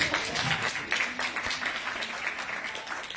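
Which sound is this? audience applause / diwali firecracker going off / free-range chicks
audience applause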